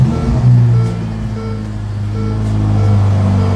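A Ferrari engine, the same unit as the 488 but with a louder exhaust system, idling with a loud, steady low rumble throughout, close up and with no talk over it.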